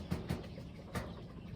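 Chickens peck at lemongrass on a farm, giving a few faint, short, soft taps close together, with a longer pause before the last one.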